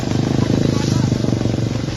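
Motorcycle engine idling close by with a fast, even throbbing putter over about two seconds, loud and steady, with no talking over it.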